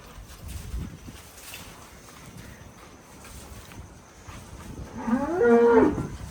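A Kankrej cow lets out a single loud, drawn-out moo toward the end, preceded by quiet outdoor farm ambience with light wind.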